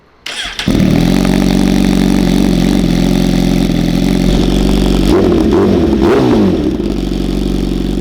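A Suzuki GSX-R1000 sport motorcycle engine fires up and settles into a loud, close, throaty idle, with a brief rev blip midway before steadying again.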